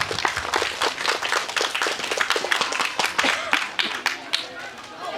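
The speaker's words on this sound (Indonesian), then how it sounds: "Kita kasih aplaus buat kita semua dulu." Applause from an assembled audience at a primary school Pancasila Day and Year 6 farewell ceremony, dense rapid clapping that carries steadily for several seconds and thins toward the end, with some voices mixed in.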